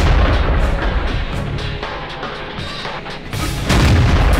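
A tank destroyer's main gun firing in a tank video game, a loud booming blast over the continuous heavy rumble of engine and battle noise, with a second burst near the end.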